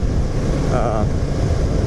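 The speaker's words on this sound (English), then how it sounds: "this will be my test right here of how it sounds at high speeds when it's windy outside" Loud, constant roar of wind buffeting the microphone at speed, a dense rumbling rush that masks everything else.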